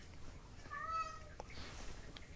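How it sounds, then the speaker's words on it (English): One drawn-out meow from a hungry cat, faint and somewhat distant against a quiet indoor background, followed by soft short noises. "Yes, cat."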